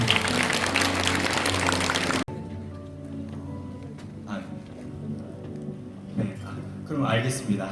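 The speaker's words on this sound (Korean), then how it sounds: "박수하도록 하겠습니다." A church congregation applauds at an anniversary, retirement and ordination thanksgiving service. A loud burst of clapping fills the hall, then cuts off abruptly into a quieter room where a voice speaks.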